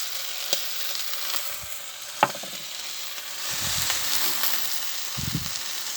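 A steak seasoned with salt and pepper sizzles steadily in a frying pan, giving a constant close hiss with a few soft pops and clinks and no talking.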